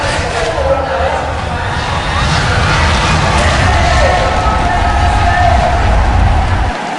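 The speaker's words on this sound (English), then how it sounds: "You can hear the crowd going nuts for Mineski right now." A large crowd at an esports tournament roars and cheers for Mineski, a dense, loud, sustained wash of noise with a commentator's voice running over it.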